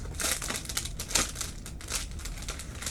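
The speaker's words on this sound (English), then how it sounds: "I'm going to take it out of the envelope here." Paper packaging envelope crinkling and crumpling up close as an item is pulled out, with repeated bursts of rustling over about three seconds, no talking.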